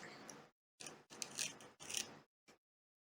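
Scissors snip a slit into needlepoint waste canvas: several short, crisp cutting bursts separated by brief silences, with a final quick snip, close and alone.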